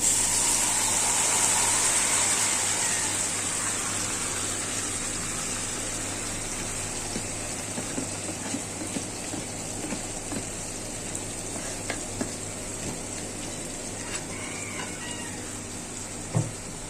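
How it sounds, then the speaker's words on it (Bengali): Leafy greens dropped into a pan of deep-fried onions, setting off a loud hissing sizzle that slowly settles into a steady frying crackle with light scrapes and small taps. "আমার পেঁয়াজটি বেরেস্তা হয়ে গেছে, এখন শাক দিয়ে দিচ্ছি"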